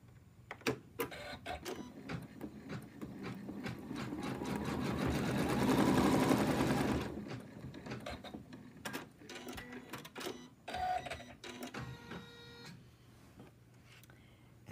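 A home embroidery machine stitches the arm of an in-the-hoop lamb toy, giving a steady rapid mechanical chatter that swells mid-way, then breaks into short bursts and clicks as it moves between stitches.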